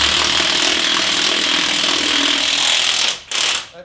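Loud, continuous buzzing rattle of a pneumatic impact gun tightening a part on an AK47 transmission, close up and sustained, cutting off briefly near the end before a short final burst.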